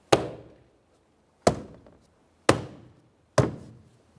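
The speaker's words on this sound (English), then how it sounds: "we'll just tap that in" Four sharp, solid knocks at irregular intervals, each decaying quickly, as a rear door panel's locking tabs are tapped into place on a 2015-2019 Subaru Outback; close and clear with no talking.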